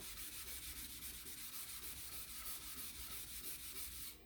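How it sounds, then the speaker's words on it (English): Sandpaper stripping coats of paint off an edge gives a close, continuous, rhythmic rasping with a quick back-and-forth stroke pattern, heard alone and fading at the very end. "I can tell that that section of the sandpaper is clogged and the sanding is good"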